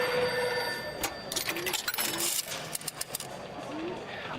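Telephone call being placed in LA Noire: a phone bell rings in brief metallic bursts alongside clicking and coin-like jingles, with scattered tonal chirps and a voice murmuring faintly underneath.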